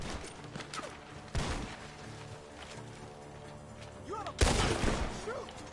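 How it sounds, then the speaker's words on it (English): Gunshots ringing out from a barn in the video game Red Dead Redemption 2, two sharp loud cracks a few seconds apart over ambient game sound, with faint voices in between. "The gunshots are coming from that barn."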